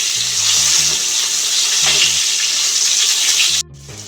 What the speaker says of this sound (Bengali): এখন বেগুনগুলো আমি ভেজে নিচ্ছি